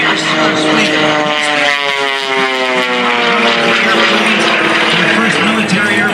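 The RAD Aerosports Jet Waco propeller airplane at an air show drones loudly and steadily, its engine note wavering slightly and close, with a voice talking over it.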